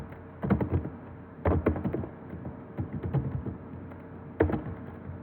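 Typing on a computer keyboard during a typing exercise: clusters of close, moderately loud key taps come in irregular bursts with brief gaps, and a heavier thunk near the end, with no talk.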